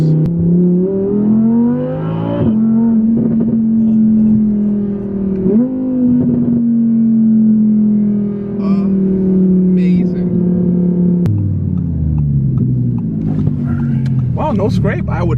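A 2018 Audi R8 V10 RWD launches hard under launch control, its engine roaring loud and close and climbing in pitch through several gear changes, with brief drops between each upshift.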